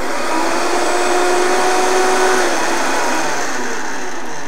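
A Vitamix blender runs at high speed, churning a thick, chewable high-fat smoothie in a loud, steady whirring drone that holds evenly from start to finish.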